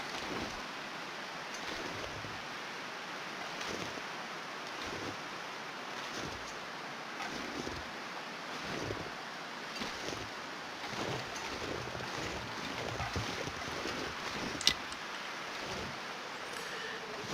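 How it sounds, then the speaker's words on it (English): Cold, breezy wind blowing steadily across an open landscape in The Long Dark, a constant broadband rush with gentle gusts swelling and easing, and a brief sharp click near the end. "It is really breezy"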